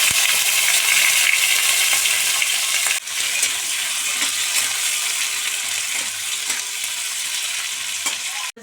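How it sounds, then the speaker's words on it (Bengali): Chopped onion with sugar, cloves, cinnamon and bay leaves frying in oil for chicken rezala, a loud, steady sizzle throughout with occasional stirring scrapes and one brief dip near the middle. "এবার দিয়ে দেব একটা পেঁয়াজ কুচানো।"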